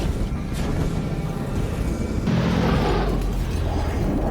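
A relic power core blowing up in Warhammer 40,000: Dawn of War III: a loud, sustained roaring blast with a sharp, crackling surge partway through, then continued rumbling.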